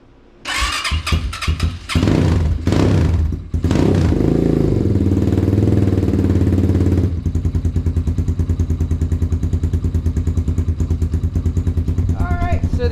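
A Kayo 230 dirt bike engine is kicked over with a few clattering attempts, catches and revs loudly, then settles into a steady, close, rapid-pulsing idle, with a voice speaking over it.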